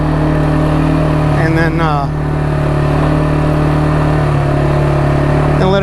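A new Kawasaki 300 quad's engine runs steadily at half throttle or less during a break-in ride, a constant loud drone with a brief rising rev near the middle, while someone talks over it.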